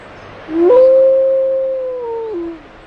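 A female gray wolf in winter Yellowstone lets out one long, clear howl that rises, holds steady for about two seconds and then slides down, loud and close against a quiet background.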